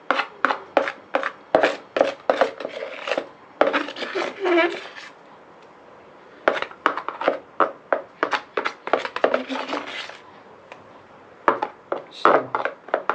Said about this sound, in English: Might use the knife. Might scrape that out better than the fork.